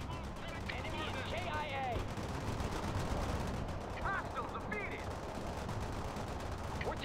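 Sustained rapid gunfire and explosions from battle in the real-time strategy game World in Conflict, a dense continuous barrage with chirping effects and radio-style voices layered over the loud combat noise.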